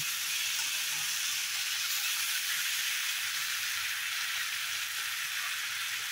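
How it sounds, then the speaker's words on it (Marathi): Rice sautés in a pan with spices, including coriander-cumin powder and kitchen king masala, in a steady, even sizzle that holds without a break, with no talking. "1-2 मिनटं परतूया आणि तांदूळ घालूया"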